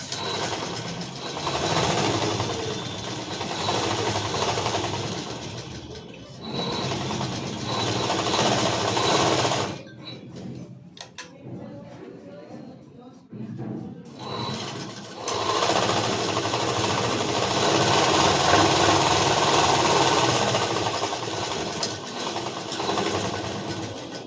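Sewing machine stitching palazzo pants with a half-inch edge seam, running steadily and loudly in long bursts with a short pause midway, no talk.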